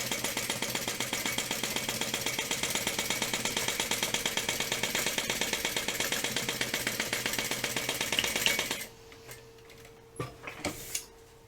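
A sewing machine stitches a half-inch seam with a fast, steady mechanical rattle for about nine seconds, then stops, leaving a few quiet clicks and handling sounds.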